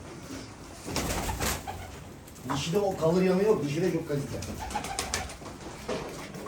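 Bukhara pigeons coo in soft rolling bursts close by, while someone talks over them.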